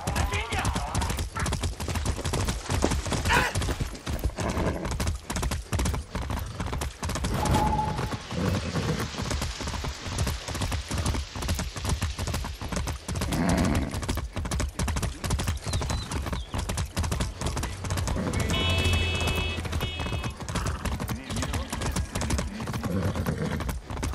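Horse hooves clip-clop in a steady, rapid rhythm throughout a ride in Far Cry 6, loud and close, with game voices talking over parts of it.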